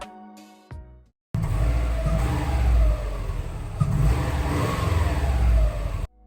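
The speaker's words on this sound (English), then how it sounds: "here's a quick clip of how quiet the stock exhaust sounds" A 2011 Subaru Forester XT on its stock exhaust drives along with a fairly subdued, steady engine drone and road noise, after a short electronic tone at the start.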